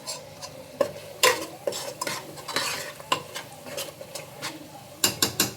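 Tomatoes frying in oil in a pan for tomato bath, soft sizzling under repeated scraping and stirring strokes of a spoon against the pan, irregular and close, without talk.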